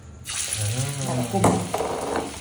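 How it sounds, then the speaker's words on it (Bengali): Chili fritters sizzle loudly as they fry in a pan in a home kitchen, with a steady crackling hiss rising as batter hits the hot oil. A voice speaks faintly underneath. "এখানে ফেলো আর ভাজো, ফেলো আর ভাজো"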